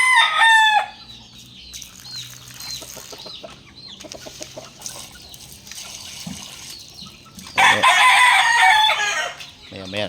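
Farmyard chickens cluck and a rooster crows loudly near the start, with scattered fowl calls in between and a second bright, loud burst of crowing and squawking later on.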